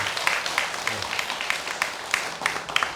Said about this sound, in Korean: 실제로 박수 한번.